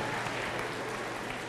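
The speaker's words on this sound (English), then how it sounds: "Give them a round of applause." Audience at a health lesson giving a round of applause, a continuous even patter of many hands clapping at steady volume.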